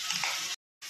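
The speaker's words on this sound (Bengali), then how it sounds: "পেঁয়াজটাকে লাল লাল করে ভেজে নেব।" Chopped onion and green chilli frying in a pan give a dense, close sizzle that stops abruptly partway through, then briefly resumes.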